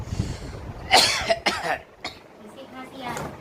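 A person coughs several times in short harsh bursts, close to the mic, mixed with throat clearing and talk.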